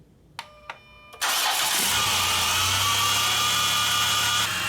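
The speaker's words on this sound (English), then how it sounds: "So now I'm gonna go in the vehicle and start the engine." Chrysler Town and Country minivan engine cranking briefly with a couple of short starter clicks, then catching and settling into a steady, loud idle with a low hum and broad mechanical hiss.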